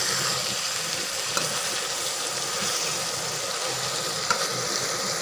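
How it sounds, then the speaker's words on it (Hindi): Aloo gobi fries in a pan with a steady, close sizzling hiss, a continuous even crackle throughout and only faint occasional stirring taps. "अब इसको अच्छे तरीके से भूनेंगे"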